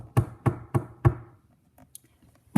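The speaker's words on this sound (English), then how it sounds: "Elizabeth grabbed the knocker and banged on the door again" Four heavy, evenly spaced bangs of a door knocker strike a wooden door, close and resonant, then a couple of faint lighter taps follow after a pause.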